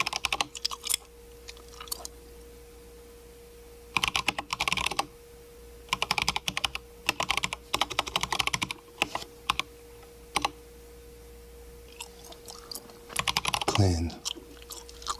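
Bursts of clicking keys on a computer keyboard while typing diskpart commands on a ten-year-old Lenovo C560 all-in-one, irregular clusters of taps separated by pauses, close and clear over a low steady hum.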